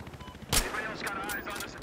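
Gunfire in the video game Battlefield: one loud, close shot bursts out partway through and rings off in a rattling tail over a faint background.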